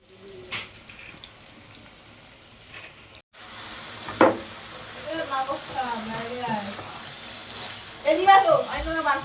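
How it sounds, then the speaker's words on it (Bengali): Cornflour-coated chicken pieces for chilli chicken frying in hot oil, a steady close sizzle that swells louder near the end, with a person talking over it throughout. "এইগুলোকে ভাজবো, ভাজলে আর কতক্ষণ, ভাজাটাই মেন"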